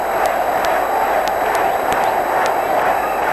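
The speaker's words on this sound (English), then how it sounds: "Crowd are urging him on here." A crowd in a badminton hall at the World Cup cheers and roars steadily for a tired player. The noise is a dense, continuous wash with sharp squeaks or whistles cutting through now and then.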